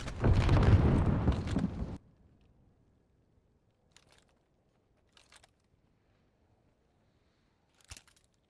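Grenade explosion in Call of Duty: Vanguard, a loud, close, roaring blast lasting about two seconds that cuts off abruptly into near silence broken by a few faint clicks and taps.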